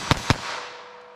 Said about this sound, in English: Now let's see how I get here with our 22 long rifle. Have to time it a little bit differently, but shoots fine.